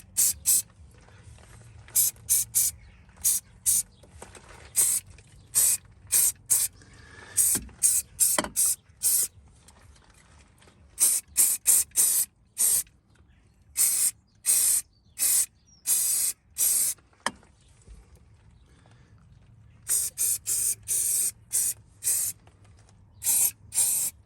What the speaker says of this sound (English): So Dynax going on, fine coats apparently.